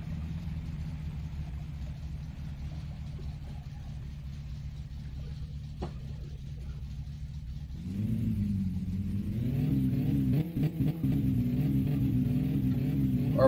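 Satsuma rally car in a driving game, its engine idling with a steady low rumble, then revving up sharply and holding a louder, wavering roar with rising and falling pitch until the end.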